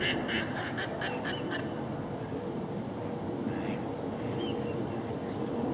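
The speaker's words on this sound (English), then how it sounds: "there's the source of the noise. All these mallards." A group of mallard ducks quacks in a rapid burst of calls from below the trees along a country walk, followed by scattered fainter quacks under steady wind noise.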